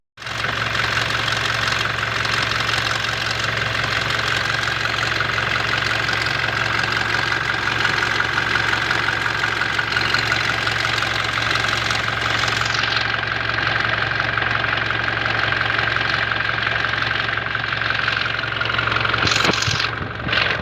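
A Toyota Hilux 2GD diesel engine idles loudly and close, its steady drone laced with a rough grinding, knocking rattle that continues unbroken throughout.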